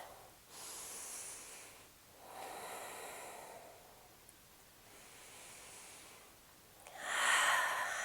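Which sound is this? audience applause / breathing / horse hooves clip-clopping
breathing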